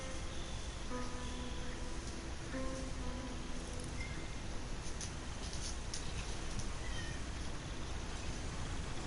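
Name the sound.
cat meowing in video game Red Dead Redemption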